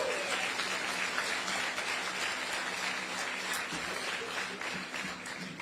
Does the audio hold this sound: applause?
yes